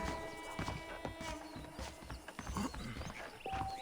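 Horses walk with soft, rhythmic clip-clop hoofbeats in the Western video game Red Dead Redemption, quiet and steady over light background ambience.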